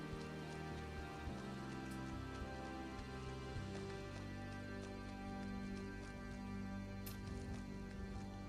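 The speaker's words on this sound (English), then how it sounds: "Yep, now it's raining." Steady rain in the video game Skyrim patters and hisses continuously, with occasional sharper drops, alone with no talking.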